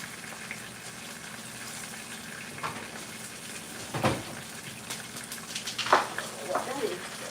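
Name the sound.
fish frying in pan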